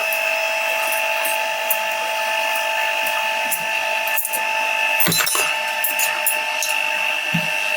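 An electric cake mixer with a removable rotating beater and five speed settings runs steadily at close range, a continuous whirring motor drone with a few brief knocks and clatters over it.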